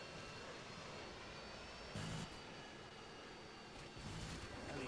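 A Harrier jet in the video game Modern Warfare 2 makes a faint, distant, steady roar under constant broadband game noise, with two brief louder surges.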